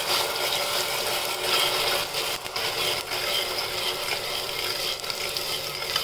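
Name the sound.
sautéing onion paste with bay leaf in oil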